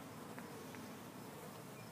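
Bees around a top-bar hive buzz in a soft, steady drone, the hum of many insects close by without pause.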